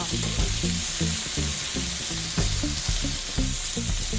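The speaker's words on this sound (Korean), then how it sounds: "목살은 육즙이 빠져나오지 않게 센 불에서 튀기듯이 빠르게 구워주는 게 중요해요" Iberico pork neck sizzles and spits steadily in a pan on high heat, with rhythmic scraping and stirring knocks cutting through the crackle.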